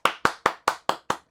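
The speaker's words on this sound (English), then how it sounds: "Round of applause for Zalumpa." Seven sharp hand claps in a slow, even rhythm, close and crisp, each spaced about a fifth of a second apart with no voices.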